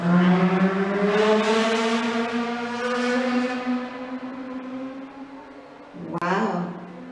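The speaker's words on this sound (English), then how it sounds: "They drive hard around here." A car with a loud engine roars past nearby, its pitch rising and then falling away, and a second engine surges briefly near the end.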